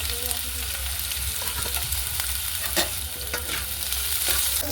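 Chopped onion, garlic, green chili and ginger sizzle in about two spoons of hot oil, frying steadily with occasional stirring scrapes.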